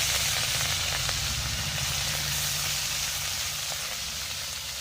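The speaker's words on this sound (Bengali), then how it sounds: "মাছগুলো ভেজে নিয়ে ফিরে আসছি।" Small river fish frying in hot oil in a kadai, a loud, continuous close sizzle with a dense hiss and occasional spits and pops, no voices.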